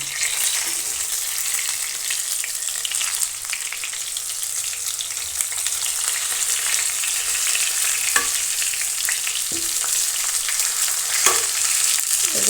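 Brinjal (eggplant) pieces frying in oil in a pan, a steady close sizzle throughout with occasional soft clicks of turning and stirring, no voices.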